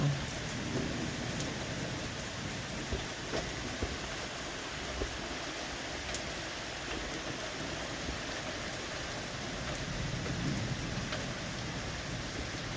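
Steady light rain patters on surfaces nearby, an even hiss throughout with faint scattered drops and no voices.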